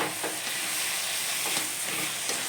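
Taro flowers fry in a pan while being stirred, giving a steady close sizzle and hiss with soft scraping strokes of the spoon at intervals.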